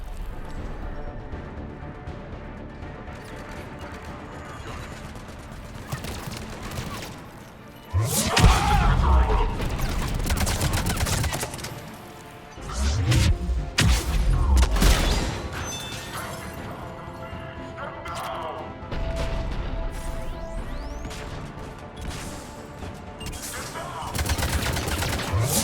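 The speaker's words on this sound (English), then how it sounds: "The cannon fire is clearing the way." Heavy cannon fire and gunfire in the video game Mass Effect 3, with booming blasts and crashes in bursts over a loud battle din, under occasional talk.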